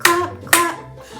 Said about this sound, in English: Give a little clap, clap.